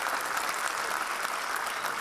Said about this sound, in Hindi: उनके लिए एक बार दिल से ताली बजाती है